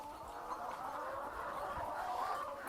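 Chickens at a poultry farm, kept for meat as broilers, make a dense, continuous murmur of overlapping clucks and soft calls from a large flock, steady and fairly faint throughout.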